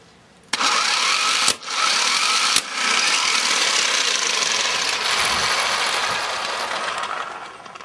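A socket turns the lower strut bolts on a 2006 Chevy HHR, giving a loud, sustained mechanical whir that starts abruptly, breaks off briefly twice and then runs on steadily before fading slightly.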